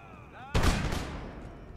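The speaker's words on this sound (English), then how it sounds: "And just open up on them with artillery" Artillery fire in Empire: Total War: one heavy, sudden boom with a long rumbling tail, heard after a faint faded-out tone.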